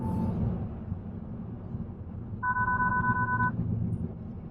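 Inside a moving car with the blinker on, a blind spot warning sounds as a steady two-tone electronic chime lasting about a second over the low road rumble of the cabin.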